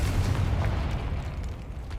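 A Confringo fire spell bursts in Hogwarts Legacy, a loud, close, rumbling blast that stays heavy and sustained for about two seconds with no speech.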